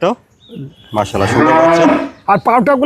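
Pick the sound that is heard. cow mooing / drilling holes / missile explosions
cow mooing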